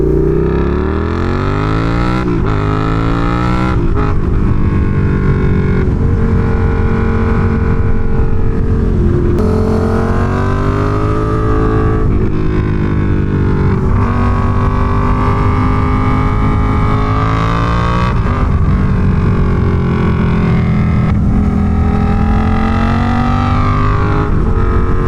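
A Suzuki SV650 V-twin motorcycle with a cheap aftermarket exhaust runs loud and close for the whole stretch, with a deep throaty rumble that rises and falls as the throttle is worked.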